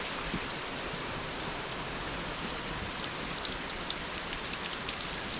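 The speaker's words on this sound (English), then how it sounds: "the tunnels are overflowing with water at the moment" Water pours and drips through flooded hiking tunnels along the Levada Caldeirão do Inferno on Madeira, a soft, continuous rushing patter heard fairly quietly on its own.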